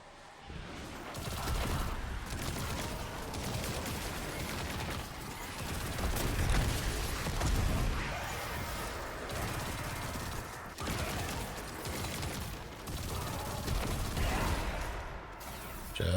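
Sustained gunfire in a video game, steady rapid shots layered over one another at a constant loud level, as though continuous fire is held down with no pauses for about sixteen seconds.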